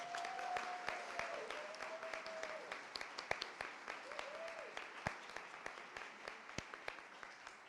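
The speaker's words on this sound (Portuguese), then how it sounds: "Uma salva de palmas aí para os coordenadores de mentores." Sparse applause from a small group, with scattered individual claps continuing throughout beneath a whistling tone and some talk.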